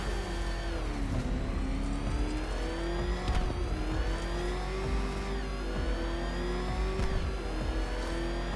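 A car engine in the video game Batman: Arkham Knight, a steady droning hum that rises and falls as the vehicle speeds along, with several revs and whooshing surges, heard alone without talk.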